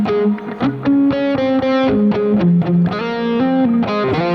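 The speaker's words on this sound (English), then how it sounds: "it's a distortion, but it's more of like a crunch distortion" An electric guitar through the Archetype Plini amp sim with crunchy distortion plays a chunky riff of sustained chords and short melodic notes, loud and close, with no voices.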